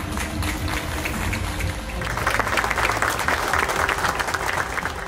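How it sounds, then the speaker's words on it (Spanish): A crowd at a municipal street-rehabilitation inauguration in La Barca, Jalisco, breaks into sustained applause, steady at first and then swelling louder and denser around the two-second mark before holding strong to the end. "Un fuerte aplauso, por favor."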